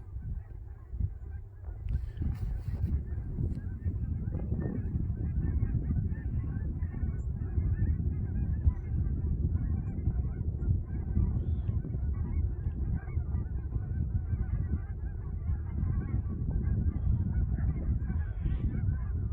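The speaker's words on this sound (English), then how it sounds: "Geese are flying." Flock of geese honking as they fly over new rural property, a dense continuous chorus of calls at moderate distance lasting the whole stretch, with no talk.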